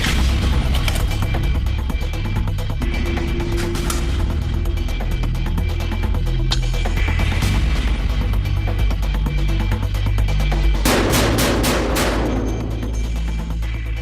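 An AS-50 .50 caliber semi-automatic rifle fires a fast string of about four or five loud, sharp cracks in quick succession near the end, after a long stretch of steady droning hum.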